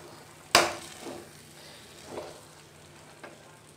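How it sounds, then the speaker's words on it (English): Halwa cooked in ghee is stirred in a pan, giving a sharp scrape followed by a few softer, spaced stirring strokes over a faint background sizzle, close and fairly quiet. "while we are stirring this, the halwa comes together"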